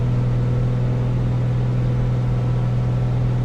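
A light aircraft engine in a flight simulator drones steadily at reduced RPM, a constant low hum with a sustained tone, unbroken and even throughout.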